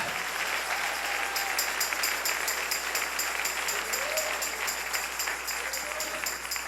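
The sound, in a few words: congregation applause in church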